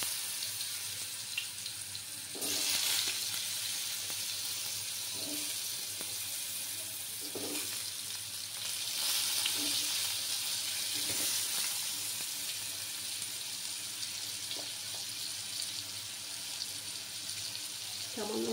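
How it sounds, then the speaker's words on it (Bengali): Potatoes frying in oil in a pan, giving a steady, moderately loud hiss with faint intermittent stirring knocks and no speech. "এবার আমি এই তেলের মধ্যেই আলুগুলো ফ্রাই করে নেব।"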